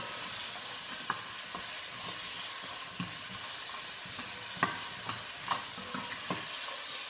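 Celery frying in a pan for a braised Chinese pork belly casserole, stirred with a steady hiss and a few distinct clicks of the utensil against the pan, close and on its own.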